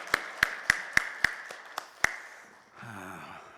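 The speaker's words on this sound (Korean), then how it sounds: "할렐루야로 하나님 앞에 영광의 박수 올려드립니다" A congregation at a prayer-retreat church service claps in a series of about seven sharp, evenly spaced claps, fairly close, before a brief murmur of voices.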